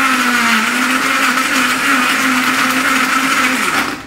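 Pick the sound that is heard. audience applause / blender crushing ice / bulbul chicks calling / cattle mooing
blender crushing ice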